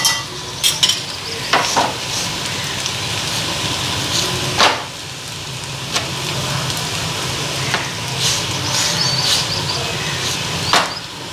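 Food frying in a pan while being stirred, a steady sizzle punctuated by sharp scrapes and knocks of the spatula against the pan at irregular intervals, close and fairly loud.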